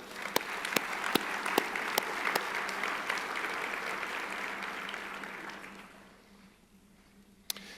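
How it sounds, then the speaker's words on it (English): A room full of business-community attendees at a Columbus chamber annual meeting claps for the board, sustained even applause with a few sharp nearby claps, fading out toward the end. "let's give the Chamber Board a round of applause"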